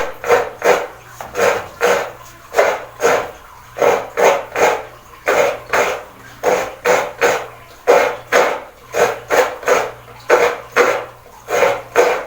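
Coconut is grated by hand on a scraper, five coconuts in all, giving a steady run of rhythmic rasping strokes, about two per second, close and fairly loud with no talk over them.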